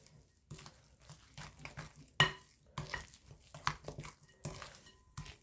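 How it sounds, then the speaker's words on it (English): Batter for an apple coffee cake being stirred in a bowl, a run of soft scraping and tapping strokes in an irregular rhythm, fairly quiet and close, with one sharper clink partway through and no talk. "Now we're going to stir it. Make sure it gets well blended."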